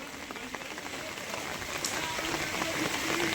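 Dense, steady hiss of heavy rain pouring onto surfaces at a flooded truck union yard in Tapa, Punjab, continuous and fairly loud, with no pauses or voices.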